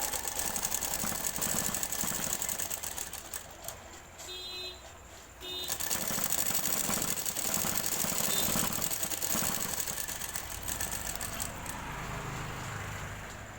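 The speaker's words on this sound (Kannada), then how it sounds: "ಫಸ್ಟು ಡೌನ್ ಸೈಡ್ ಸ್ಟಿಚಿಂಗ್ ಮಾಡ್ಕೊಳ್ಳಿ" Sewing machine stitching a blouse piece with its lining, a continuous fast mechanical whirr and rattle running nearly throughout, close and steady, with a brief pause midway.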